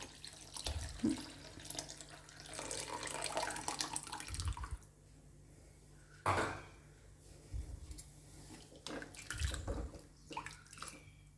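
Tamarind water is poured into rasam with dal water, making splashing, gurgling pours in several bursts, with quieter gaps and soft clinks of a pot in between, close and fairly faint.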